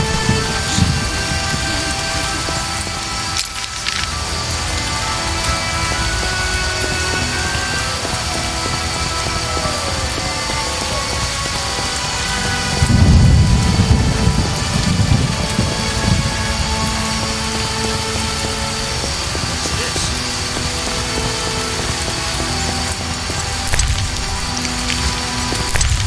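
Heavy rain pours down in The Witcher as a dense, constant wash, with a deep thunder rumble breaking through midway and a soft musical drone underneath.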